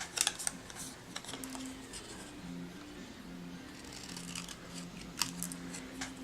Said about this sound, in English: I'm going to cut off just about 1/2 inch, then cut up and give it a banner tail.